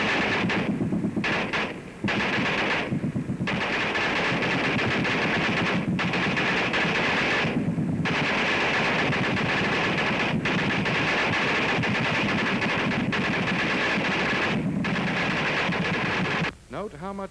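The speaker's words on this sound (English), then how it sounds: "Listen for the flight of the bullets and the report of discharge of the guns." WWII infantry gunfire heard from the receiving end, a loud, dense and continuous roar of rifle and machine-gun fire with rapid cracks of passing bullets, broken by brief gaps.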